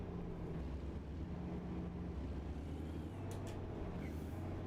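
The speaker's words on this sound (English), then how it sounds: "This truck sounds pretty good though." Truck engine in American Truck Simulator hums in a steady low drone, a continuous rumble running under the whole stretch with no talk.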